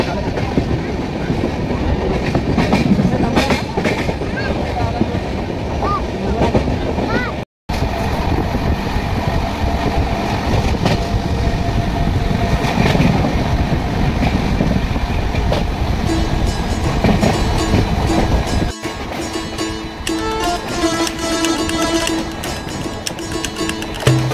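A superfast express train from Howrah runs along the tracks near Raniganj, with a continuous loud rumble and rhythmic wheel clatter heard from on board, broken by two brief dropouts.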